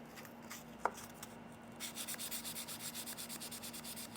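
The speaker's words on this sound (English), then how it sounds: "let's give that a little rub till it feels nice and smooth" Soft, steady rubbing strokes polishing a part of a CZ P-09c pistol, quick and rhythmic back-and-forth, with a faint low hum beneath and a single small click early on.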